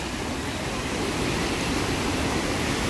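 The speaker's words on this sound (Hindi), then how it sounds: "बहाव तो है पानी है।" Water flowing over a damaged road, a steady, loud broadband rush like a stream or small waterfall, continuous and close throughout with no other clear sounds.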